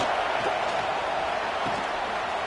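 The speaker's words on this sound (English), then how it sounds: "listen to this crowd noise. This stadium is vibrating" A packed stadium crowd at a college football game roars without a break, a dense, loud and even wall of cheering with no single voice standing out.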